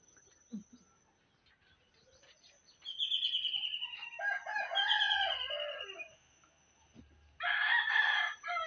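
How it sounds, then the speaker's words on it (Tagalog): A rooster crows loudly nearby in two long calls separated by a pause, with faint bird chirps scattered in the quiet background, in the Philippine countryside in the morning. "huni ng ibon, tilak ng manok"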